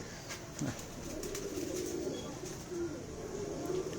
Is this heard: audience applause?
no